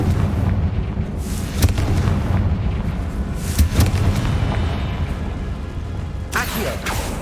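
A Confringo spell explodes in Hogwarts Legacy, a loud booming blast over a dense rumbling game soundscape, with a couple of sharper bursts around it.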